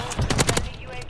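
Rapid automatic fire from the MCW rifle in Modern Warfare 3 multiplayer, about half a dozen loud close shots in a quick burst that then trails off into game ambience.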